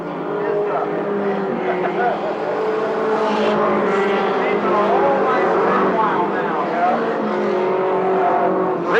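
Race cars circle an oval track during a season championship race, their engines droning loudly and steadily throughout, with an announcer talking over the noise.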